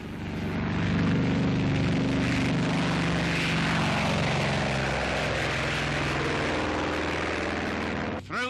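A Grumman Hellcat fighter plane flies past in a World War II–era recording, its propeller engine a loud, sustained roar that swells and then fades over several seconds.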